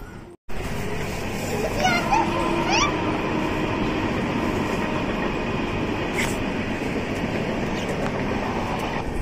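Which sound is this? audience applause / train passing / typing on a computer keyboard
train passing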